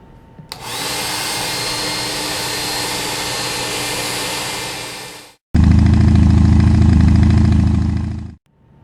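A hair dryer blows in a steady broadband whoosh at close range, cutting out briefly before restarting at a louder, deeper, heavier roar, then switching off; no talking.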